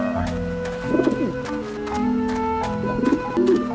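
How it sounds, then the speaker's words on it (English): Pigeons in the video game Grim Fandango give two bursts of soft, throaty cooing about two seconds apart. The cooing sits over a steady background of game music and ambience. "And there we see some pigeons."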